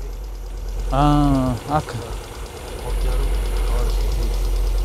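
A 1996 Hyundai Accent 1.3 petrol engine idles with a steady low rumble, and someone briefly speaks over it.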